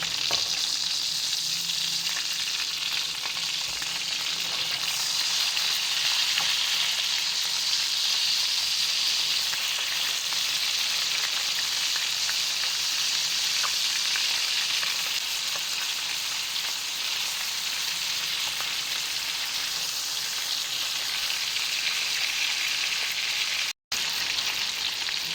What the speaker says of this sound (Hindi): चपली कबाब हमारे फ्राई हो चुके हैं।